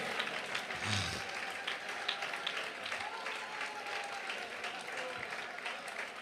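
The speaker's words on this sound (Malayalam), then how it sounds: "കൈയടിക്കുന്നെങ്കിൽ നേരെ കരങ്ങൾ അടിച്ച്" A church congregation at a Malayalam Christian sermon breaks into applause, a dense burst of clapping that carries on steadily at a moderate level, with faint speech underneath.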